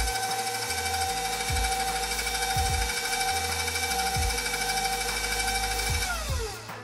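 An electric hand mixer whirs steadily and loudly through plantain cake batter, its motor holding a constant whine with bumps as the beaters move, then spinning down as it is switched off at the end.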